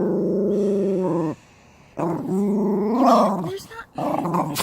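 Dog growling indoors, a loud, close, throaty rumble in two long stretches broken by a brief pause, with some whimpering yips mixed in.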